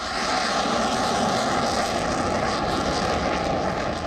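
A Rafale fighter jet in flight, a loud, continuous engine roar with a steady tonal hum running through it, holding at constant level for a few seconds with no audible voices.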